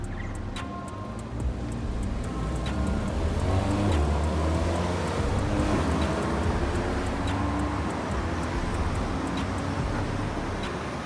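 Out car spotting on a Brisbane street, a car pulls away with a low engine rumble that swells in the middle and settles, moderately distant amid traffic and outdoor noise.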